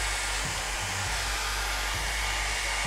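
A hairdryer set on low blows steadily over coffee-stained paper, a constant loud airy rush close by with faint low thumps underneath and no talking.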